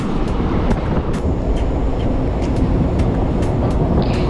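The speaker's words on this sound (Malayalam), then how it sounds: "എറണാകുളം തൊട്ട് തിരുവനന്തപുരം വരെ പോകുന്ന ട്രെയിനാണിത്." A passenger train runs from Ernakulam to Thiruvananthapuram in Kerala, giving a steady, close rolling rumble with faint clicks and rattles, heard from on board.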